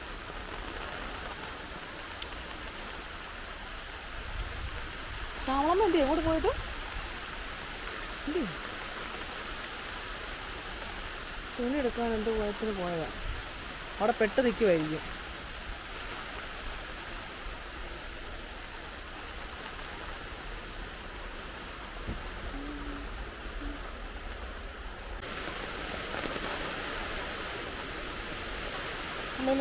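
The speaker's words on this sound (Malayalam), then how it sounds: "ഇന്ന് മൊത്തം മഴയാന്ന് തോന്നല്ലോ" Steady rain pours down around a house in Mundakkayam during windy weather, a constant broadband wash that runs under the whole stretch while a person talks briefly at a few points.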